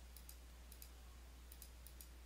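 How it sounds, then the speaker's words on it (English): Soft, quick clicks of calculator keys being pressed in two- and three-tap bursts, faint and close against a steady low hum, with no talk. "Now, you can use a calculator, of course, to get the tangent of 5 degrees."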